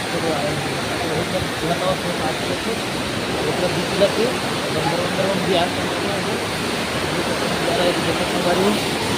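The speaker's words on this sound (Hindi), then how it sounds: "यति बगल में वो जलप्रपात है दे, बहुत अच्छा झरना चलत है यति" A waterfall roars continuously, a broad, steady rush of falling water close by.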